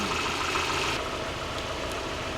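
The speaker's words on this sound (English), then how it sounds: "Would you not hear the engine change slightly" Steady low rumble of a car engine idling, modified with a new mappable ignition setup, close and continuous with a faint mechanical knock throughout, no voices.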